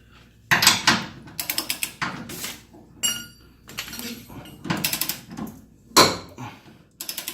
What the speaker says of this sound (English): with this longer wrench, turning these bad boys is a lot easier